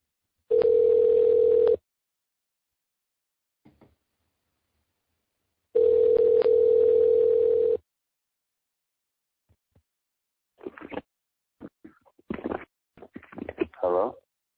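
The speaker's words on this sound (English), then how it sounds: "Here it is. Dialing it up." A telephone call is placed and rings through: two long, loud steady ringback tones are separated by a pause. Brief faint clicks follow, and then a voice begins to speak near the end.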